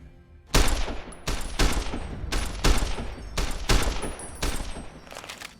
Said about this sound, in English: They're all shooting the same target.